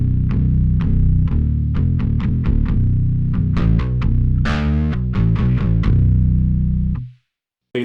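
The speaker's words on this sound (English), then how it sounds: "this would be the bass alone." A guitar played through a bass preamp on the bass channel alone gives deep, heavily distorted notes, plucked in a steady rhythmic line with some quick runs, then stopping abruptly near the end.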